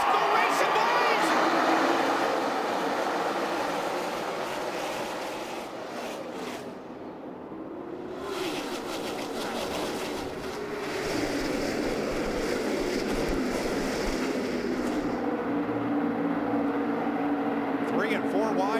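Stock cars roar as a NASCAR field heads into the first lap at Auto Club, a steady broadband engine and crowd wash that dips briefly midway and swells again, with commentary voices running over it.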